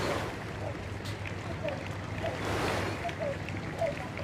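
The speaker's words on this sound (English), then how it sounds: "that big whoosh as they send the boat away as they come down to the end" A rowing boat rushes past at a regatta finish on the Thames at Henley with a broad whooshing swell of noise, while people talk over the steady wash.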